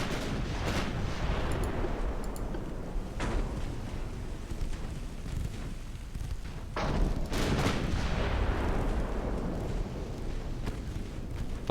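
Warship guns boom in steady volleys in the naval video game Ultimate Admiral Dreadnoughts, a dense rumble of repeated heavy shots layered over one another, continuous and loud throughout.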